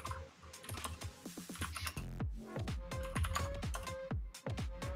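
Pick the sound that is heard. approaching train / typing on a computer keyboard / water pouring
typing on a computer keyboard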